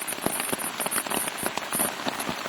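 Steady outdoor rain patters on surfaces in a dense, continuous wash of close droplet taps, with no voices.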